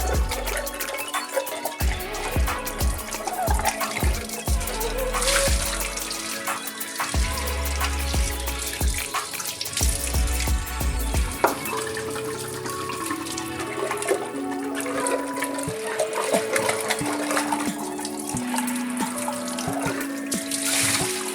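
A rust roll cartridge from a water purifier is rinsed under a running tap in a sink, a steady loud stream of water splashing and trickling over it throughout, with shifting splashes and no talk.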